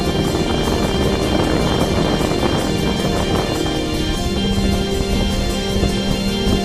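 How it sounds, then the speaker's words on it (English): A fast jet-powered catamaran boat roars continuously with dense, steady engine and rushing water noise, loud and close, with no break or voices. "The boat we're on is a jet-powered catamaran, and it is very fast."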